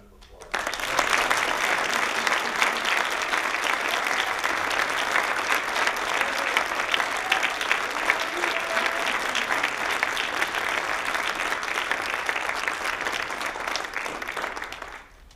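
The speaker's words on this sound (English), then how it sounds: "Would you give them a round of applause?" An audience at a university wind ensemble spring concert applauds graduating players, a long, full round of dense clapping that rises quickly, stays strong and even for about fourteen seconds, then fades out.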